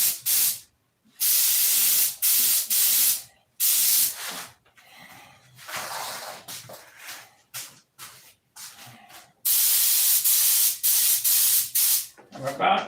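A paint spray gun lays down coats in repeated loud, close hissing passes of varying length, broken by short gaps and quieter handling noise.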